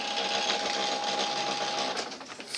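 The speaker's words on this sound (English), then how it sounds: "You can hear me printing off as well." A home printer prints pages, giving off a steady mechanical whirring and buzzing with a constant tone that runs for about two seconds, then breaks into shuffling clicks as the paper feeds.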